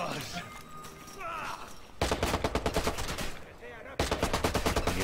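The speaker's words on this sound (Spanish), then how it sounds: "¿Quién me está disparando?" Rapid automatic gunfire in Watch Dogs, dense close bursts of shots that start abruptly and run in two long volleys, with a voice speaking over the early part.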